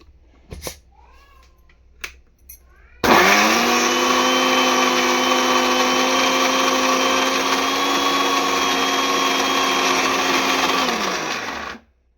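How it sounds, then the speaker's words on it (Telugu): A mixer grinder grinds bottle gourd with cumin for dosa batter. After a few light taps it starts up abruptly into a loud, steady high whine, runs for about nine seconds and then winds down. "చూడండి ఇప్పుడు మిక్సీకి అయితే వేసేస్తున్నాను"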